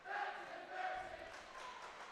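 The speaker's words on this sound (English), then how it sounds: "crowd letting her know a little bit here" A crowd at a high school volleyball match between Minot High and Legacy reacts to a player with a sustained, moderately distant roar of voices and calls.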